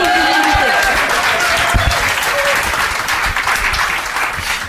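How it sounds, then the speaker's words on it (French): A conference audience applauds in a sustained, dense wash of clapping, fairly loud, with voices murmuring underneath. "Il y a des mecs en polo rouge qui applaudissent"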